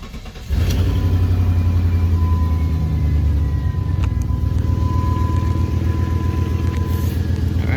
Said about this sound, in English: As you can see, the car is running.